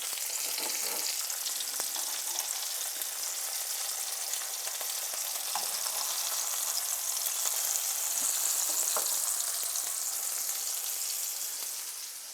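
Steady, dense sizzling of pork cutlets frying in hot oil in a pan, with occasional pops and crackles, close and continuous throughout.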